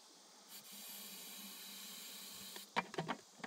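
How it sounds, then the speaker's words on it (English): Aqua Net hairspray sprayed into a potato cannon: a steady, faint aerosol hiss lasting a few seconds, followed by a short burst of clunky handling knocks. "I like to use about a 4-second spray on these things."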